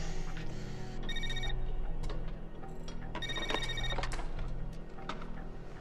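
A satellite phone in an action film rings in two short electronic trilling bursts over a steady droning background score.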